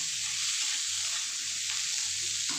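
Teasel gourd pieces fry with onions in a pan, giving a steady, close, even sizzle and hiss with faint stirring underneath.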